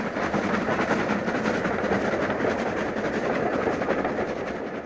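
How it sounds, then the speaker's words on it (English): A J37 steam goods train rumbles along the Waverley Line in 1961, a loud, continuous roar of wagons with steady rail clatter and no voices. "In 1961, the line was still host to this J37 goods"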